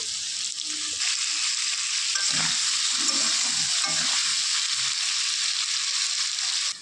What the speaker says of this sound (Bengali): আলুগুলোর মধ্যে আমি একটু নুন একটু হলুদ দিয়ে দেবো, দিয়ে সামান্যভাবে ভেজে নেব।